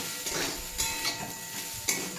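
Chopped tomatoes fry in a pan for a spicy pasta, giving a steady sizzle with a few scraping stirs and light clinks against the pan, close and without talk.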